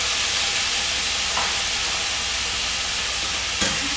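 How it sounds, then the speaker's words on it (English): Green peppers, onions and garlic sauté in a pan as a Cuban-style base, giving a dense, steady sizzle with faint stirring heard close and alone. "And now I'm gonna saute the vegetables."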